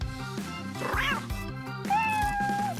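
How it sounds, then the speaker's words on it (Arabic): A cat meows in a cartoon scene, a drawn-out mew rising over busy background music, followed later by a higher sustained cry. "قطة شاطرة"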